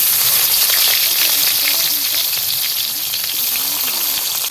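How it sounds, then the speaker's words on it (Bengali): Onions fry in hot oil with whole cumin and whole garam masala spices, giving a loud, steady, close sizzle and crackle with no break. "পেঁয়াজটা আমি 2 থেকে 3 মিনিট ভালো করে ভেজে নেব।"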